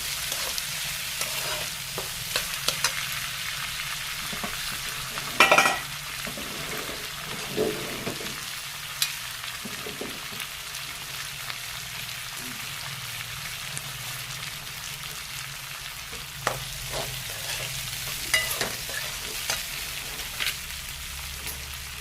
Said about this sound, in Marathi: काळा वटाणा घातल्यावर तो थोडा परतून घ्यावा